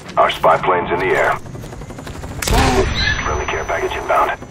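Helicopter rotor roar of an incoming care package drop in a Call of Duty style shooter, loud and steady across the clip, mixed with game announcer voice lines and bursts of gunfire.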